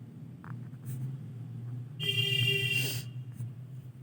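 A pen or marker scratches briefly across a writing surface for about a second during a C++ programming lesson, over a low, quiet room hum.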